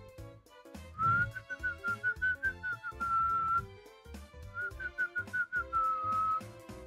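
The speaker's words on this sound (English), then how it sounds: "All right, can I whistle?" A person whistles a wavering tune in two long phrases, a steady thin tone over background music with a rhythmic beat, fairly close and clear with no talking.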